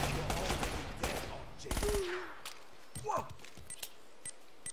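Enemy gunfire in Uncharted: Drake's Fortune, a rapid burst of automatic shots, loud and close, followed by scattered impacts and a fading whine as it goes quieter.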